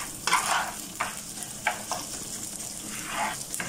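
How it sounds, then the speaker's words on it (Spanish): Rice is stirred and sautéed in a pan, with repeated scraping strokes in an uneven rhythm over a soft low sizzle, close and fairly quiet with no voices. "Vamos a comenzar a revolverlo y a sofreírlo."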